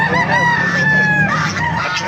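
A rooster at a chicken vendor's place in Panabo crows loudly and close by, one drawn-out call with other fowl clucking underneath.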